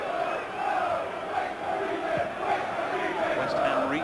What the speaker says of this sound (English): all the Chelsea fans are booing the fact that he took so